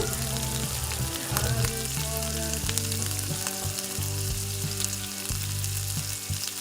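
Asafoetida, cumin and curry leaves frying in hot oil, a dense, continuous sizzle with sharp crackles and spits, close up, while a steady low hum runs underneath throughout.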